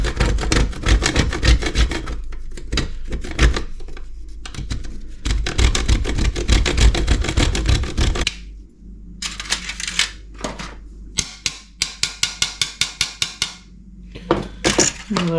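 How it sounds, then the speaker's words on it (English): Frozen wax crayons scraped against a metal cheese grater in a garden setting, giving a dense, continuous rasping scrape for about eight seconds, then a quieter stretch of sparser, rhythmic grating strokes with short gaps. "You should put some wax crayons in the freezer and then just simply grate them with a cheese grater."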